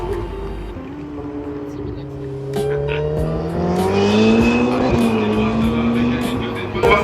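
Race cars at the GP Explorer event on a wet, rainy track, their engines droning loudly and rising in pitch as they pass, with a brief tire squeal and a continuous roar of engine noise.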